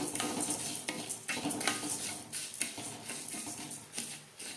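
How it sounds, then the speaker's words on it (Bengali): Whole coriander seeds, dried red chillies, cumin and black peppercorns dry-roasting in a pan, with irregular scraping and stirring strokes, rattling spices and light patter, close and alone without talk. "নিয়েছি ধনে, শুকনো লঙ্কা, আর দিয়ে দেব জিরে, গোলমরিচ। হালকা করে ভেজে নেব।"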